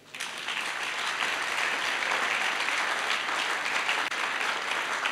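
Church congregation applauding during a sermon, a dense, sustained roar of many hands clapping that rises sharply at the start and holds loud and steady.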